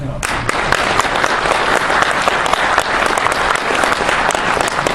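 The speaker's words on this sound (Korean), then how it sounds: "김동성 의원님 모셨는데 박수 한번 보내주시죠" A large crowd claps steadily and loudly, a dense sustained round of applause with no pauses.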